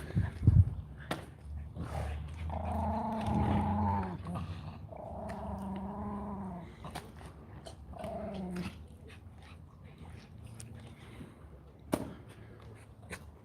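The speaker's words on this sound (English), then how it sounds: "Let's just get these 2 dogs quiet." Two dogs growl and whimper at fairly close range in a series of drawn-out, rising and falling whines and low rumbles, broken up by sharp knocks and clicks.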